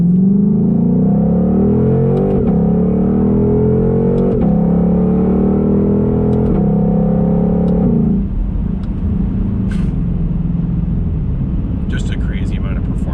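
A Shelby GT500 with a Tremec 7-speed dual-clutch accelerates hard at part throttle, its loud engine roar rising through several quick upshifts before easing off into a lower rumble, with a voice over it.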